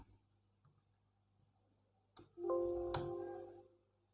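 A computer mouse clicks while someone works in a Microsoft Excel spreadsheet. A single sharp, fairly close click cuts through near silence and is followed by a sustained electronic tone, with no talking.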